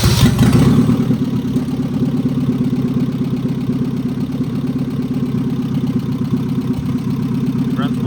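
A 1989 Nissan 240SX engine catches with a brief loud start, then settles into a steady, even idle that runs close and unbroken to the end.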